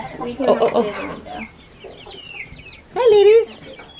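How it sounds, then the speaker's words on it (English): Hens cluck and squawk close by, with a loud drawn-out call near the end, while a person speaks softly to them. "So our neighbors gave us chickens"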